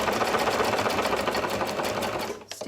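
A sewing machine stitching quilt fabric runs in a steady fast whir of needle strokes, close and continuous, slowing and stopping just before the end.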